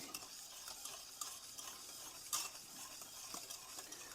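A spoon scrapes and stirs steadily around a pot of chocolate pudding, with a faint sizzle underneath and an occasional clink against the side.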